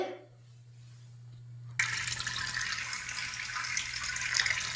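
Water from a kitchen sink tap suddenly gushes on at full flow and runs steadily with a bright splashing hiss, close and alone after a quiet moment.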